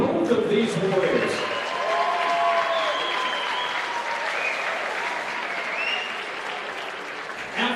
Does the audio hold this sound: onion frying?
no